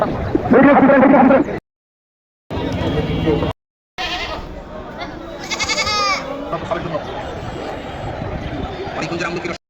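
Goats bleat repeatedly at an outdoor cattle and goat market before Qurbani Eid in Bangladesh, among people talking nearby, the calls rising over a noisy crowd with brief gaps of silence.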